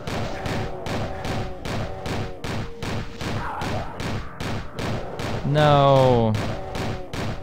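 Pistol shots in a custom Doom-based game map, a steady rhythmic series of sharp, evenly spaced shots fired one after another, with a voice briefly speaking over them and a rising electronic tone near the end.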